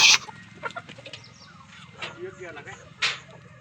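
Chickens on a poultry farm clucking and squawking in short, scattered bursts, with a sharper cry at the start and another near the end, close by and moderately loud over a quiet background.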